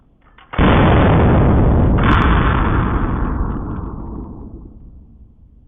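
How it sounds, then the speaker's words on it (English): Bullet fired from a rifled barrel, one sudden loud blast that ends in a long, decaying rumble lasting several seconds, with a brief sharp crack partway through. "a bullet is shot from a barrel"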